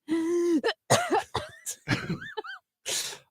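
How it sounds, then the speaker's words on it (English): A person coughs several times in quick, uneven bursts, close and fairly loud, with a strained vocal sound at the start and raspy throat clearing. "I will start coughing"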